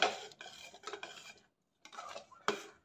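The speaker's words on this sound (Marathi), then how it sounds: "वेलची जायफळ पावडर घालून मिक्स करून घेऊया" A spoon stirs puran of lentils and jaggery in a pot, giving close scraping and clinking strokes in short bursts with a pause between them, and no voices.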